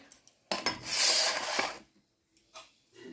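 Roti and palak paneer being served from pots into a plate and bowl, with close clinks and scrapes of utensils on dishware in short bursts, one longer scraping stretch in the middle, and no talking.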